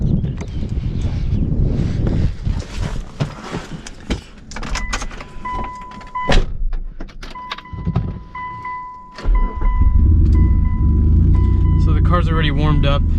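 A warmed-up Mitsubishi Eclipse GTS engine idles steadily and low, starting up loudly near the end after clunks, key jingles and a door-like chime, with a person talking throughout.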